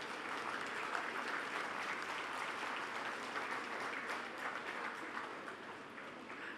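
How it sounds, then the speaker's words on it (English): An audience at a university convocation ceremony applauds graduating students, a dense, continuous wash of many hands clapping at moderate distance, steady and unbroken throughout. "Please give them a big round of applause."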